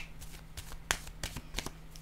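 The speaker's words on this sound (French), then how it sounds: "Je vais déposer une carte sur l'harmonie." Tarot-style playing cards are handled and laid down on a table, producing several quick, crisp slaps and soft shuffling swipes, close and moderately quiet.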